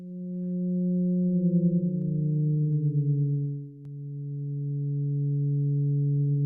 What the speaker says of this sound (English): In this case, the note duration is set by the gradient of the data.